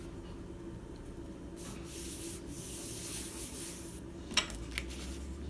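Paper is burnished down at a corner of a handmade photo book, producing faint repeated rubbing and scraping strokes in short bursts, with a couple of sharper taps near the end.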